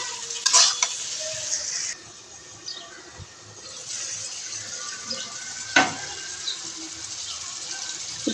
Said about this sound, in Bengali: এবার আমরা কচুর ডাগাগুলো দিয়ে দেব। আমরা এটাকে ভালোভাবে নেড়ে চেড়ে নেব।